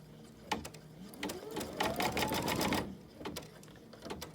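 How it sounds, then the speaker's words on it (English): An embroidery sewing machine sews out a placement stitch, a close, fast mechanical chatter with a rising whine lasting a couple of seconds before it stops. "we're going to let this stitch sew out. And you can see it's just going to sew a placement stitch"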